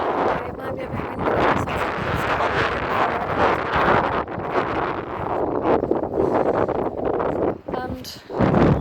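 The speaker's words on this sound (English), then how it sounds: "Okay, it might be a bit windy." Strong wind buffets the microphone on Filey beach on the Yorkshire coast, a steady loud rumbling roar with gusts throughout, and a person talks over it near the end.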